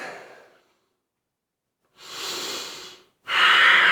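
Breath during a hamstring yoga stretch: three close, audible breaths, a short exhale, a pause, then a longer airy inhale and a strong, loud exhale, with no speech.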